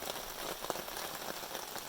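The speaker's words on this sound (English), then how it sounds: "Another day, another rainstorm." Rain patters steadily on a tarp sheltering a campsite during a stop-start rainstorm, a dense soft hiss of drops with faint individual taps, close and continuous.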